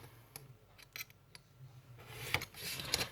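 Scissors snip paper for a bookcase craft, a few sparse close cuts at first, then a denser run of rustling, crisp snips toward the end.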